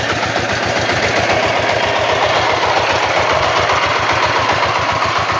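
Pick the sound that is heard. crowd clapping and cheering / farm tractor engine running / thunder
farm tractor engine running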